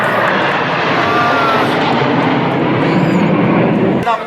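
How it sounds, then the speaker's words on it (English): Upgraded MiG-29 fighter jet roaring overhead at the Republic Day Parade, a loud sustained jet engine rumble filling the sky, steady throughout before cutting off abruptly near the end. "Look above, the MiG-29 upgrade"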